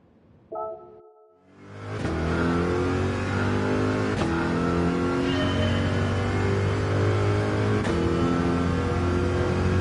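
A Corvette in a Gran Turismo 4 speed test: after a short electronic tone, the engine launches into a loud, sustained rising rev, climbing steadily through gear shifts for about eight seconds with no talking.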